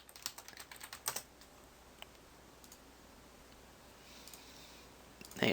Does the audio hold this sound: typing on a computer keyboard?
yes